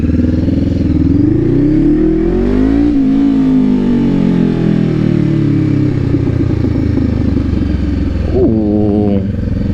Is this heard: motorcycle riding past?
yes